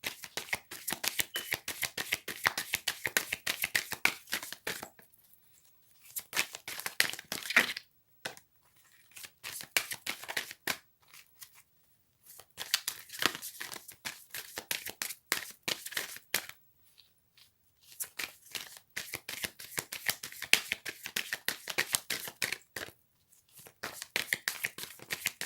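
A deck of Romance Angel oracle cards is shuffled by hand in repeated bursts of crisp riffling and flicking, broken by short pauses, close and fairly loud, with no voices.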